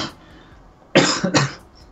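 A person coughs twice in quick succession, close and fairly loud, following a brief faint sound and a quiet pause.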